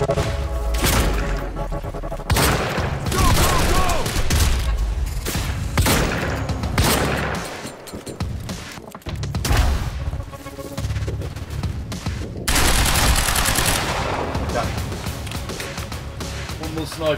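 Rapid gunfire from a shootout with a sniper in the Quantum Break video game, loud repeated bursts and booms through most of the stretch, with someone talking over parts of it.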